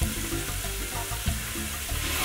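Fresh herbs, onions and garlic that have cooked about nine minutes, frying in a pan: a soft, steady sizzle with occasional stirring scrapes and clinks, fairly quiet and close, with no talking.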